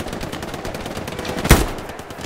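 A single sharp burst of gunfire in the World War II shooter Hell Let Loose cracks out alone over steady background battle noise.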